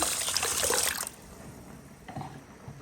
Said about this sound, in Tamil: அரிசிக்கு தேவையான அளவு தண்ணியை ஊற்றிக்கொள்வோம்